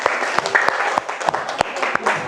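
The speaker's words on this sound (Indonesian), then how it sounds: "kita beri aplaus untuk kelompok 1" A classroom of students claps for the first presenting group after a religious studies discussion, a steady patter of many hands with a few louder individual claps standing out throughout.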